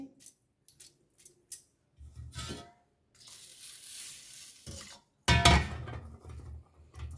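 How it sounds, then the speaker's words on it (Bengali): Ingredients are washed in water and squeezed by hand, giving short wet squelches and splashes, then a longer sloshing stretch and a loud burst of handling near the end, close and without speech. "ভালো করে জলে ধুয়ে ভালো করে চটকি চটকি মাখিয়ে নিচ্ছি"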